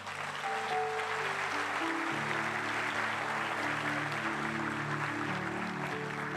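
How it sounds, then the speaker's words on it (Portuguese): A church congregation claps in a steady, quiet wash of applause while sustained keyboard chords play underneath throughout. "Aplauda o Senhor Jesus."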